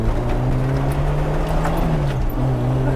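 Lowered car accelerating on a rough off-road track. The engine drones steadily and fairly loud from inside the cabin, its pitch holding roughly even over a few seconds, with no speech.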